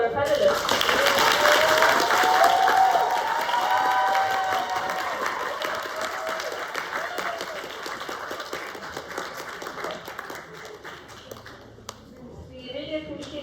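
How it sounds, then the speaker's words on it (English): Applause from a forum audience for the panelists, full at first and tapering off gradually, with some cheering and voices mixed in toward the end. "let's all give a big thank you and a round of applause to our panelists"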